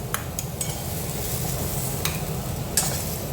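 Fried tomato and onion are stirred in a pan for egg curry, with a steady low sizzle and a few sharp scrapes of a spatula against the metal, close and without talk.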